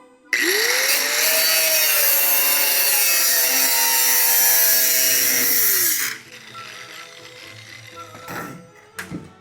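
An angle grinder disc works the metal roof of a custom Volkswagen, whining loudly and steadily for about six seconds with a rising then falling pitch, then cuts off, leaving quieter shop noise and a couple of sharp metallic clicks.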